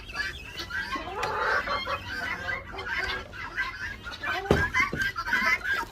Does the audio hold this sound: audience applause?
no